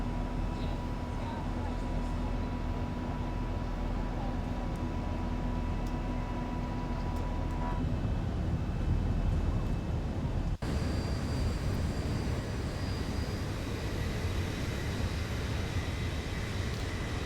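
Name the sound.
Boeing 737-800 engines climbing, X-Plane 11 video game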